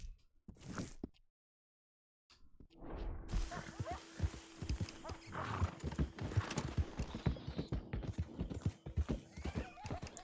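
Horse hooves clip-clop at a quick steady gait in Red Dead Redemption 2, close and distinct, with a brief whinny at the start and a short pause before the hoofbeats begin.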